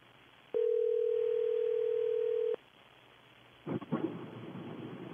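Steady telephone dial tone on a landline as a call is placed, a single unbroken hum lasting about two seconds, then quiet before a louder rustle or handling noise close by.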